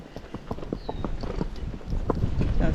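Tennessee Walking Horse hoofbeats in a quick, even racking gait on a trail, a steady close run of clip-clop strikes without pause.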